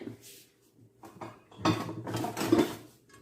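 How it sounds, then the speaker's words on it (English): A lid settles onto a pot of rice simmering over medium heat with a few metallic clinks and scrapes, followed by a louder clatter as it seats, close and fairly quiet. "We're going to add a lid."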